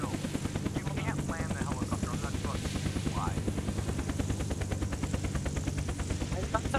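A helicopter in the video game Unturned, heard as a steady, fast rotor chop with a droning engine throughout. Players talk faintly over it.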